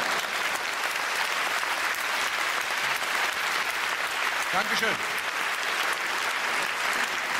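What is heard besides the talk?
audience applause at a live comedy concert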